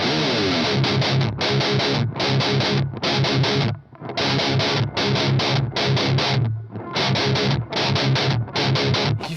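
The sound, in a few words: electric guitar played through amp distortion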